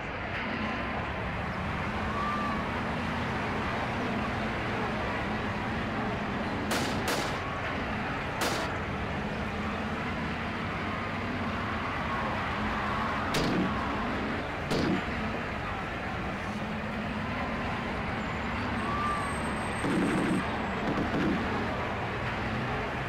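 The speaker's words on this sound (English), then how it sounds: "Now we're going to view this Pruder film with the sounds of the people, the vehicles and stuff, and the shots being fired" Gunshots crack out over a continuous roar of a crowd and vehicles moving through Dealey Plaza in Dallas as President John F. Kennedy's motorcade passes, several sharp reports spaced a few seconds apart with muffled voices throughout.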